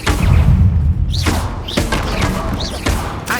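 Bombarda blasting spells in Hogwarts Legacy strike with several heavy thuds and crashing impacts, spaced irregularly over a noisy game-combat backdrop.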